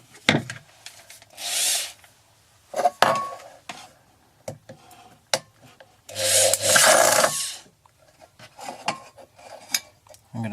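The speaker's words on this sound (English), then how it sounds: "Now I'm going to drill some smaller holes around the top to let air in near a pan." A drill bores small holes around the top of a tin soup can being made into a camp stove: close, intermittent grinding bursts, a few of them longer, separated by brief pauses, with no talking.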